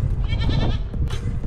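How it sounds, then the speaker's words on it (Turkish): Goats bleat loudly and close by in mountain highland pasture, a quick overlapping run of wavering calls over breezy outdoor noise. "Burada keçi arkadaşlarımız var."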